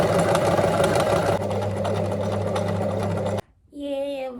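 A sewing machine stitches fabric scrunchies in a loud, steady run for about three seconds, then stops abruptly; a voice speaks briefly at the end.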